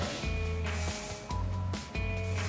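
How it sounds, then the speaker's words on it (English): Finishing hairspray on a bun hisses out of an aerosol can in three short bursts, close and steady, separated by brief pauses. "take a nice finishing spray"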